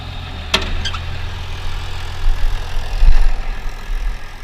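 Farmall 826 tractor engine runs steadily at a low idle-like rumble through a soybean planting job, with a brief clatter early on and a slight rise in loudness near the end, no talk.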